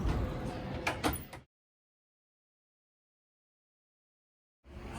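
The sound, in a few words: double doors opening via access code panel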